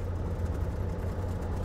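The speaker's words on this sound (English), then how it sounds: "I'll bring it back to idle and then I will switch off." A light aircraft piston engine idles steadily during a ground run-up inspection, a continuous low rumble with a constant throb that holds evenly throughout, loud and close, with no talk.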